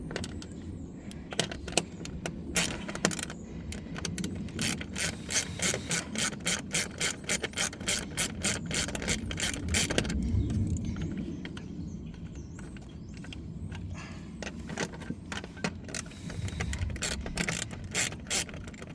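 Ratchet clicking as a 7mm screw is unscrewed on a 2013 Mustang, rapid repeated close clicks in bursts over a steady background hum, with a pause midway before clicking resumes.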